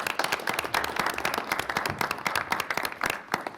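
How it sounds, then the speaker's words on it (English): Attendees at a regional transportation commission meeting give a brief round of scattered hand clapping, moderately close, dense but modest, lasting a few seconds. "Should we give him a clap or you want to hold it?"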